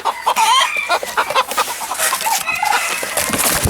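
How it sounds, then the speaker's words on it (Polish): A Hamburg rooster crows repeatedly from inside a box, loud and close, with clucking from other chickens mixed in and no talk over it. "Ten widzę w pudełku pieje, zaraz będę wyjmował."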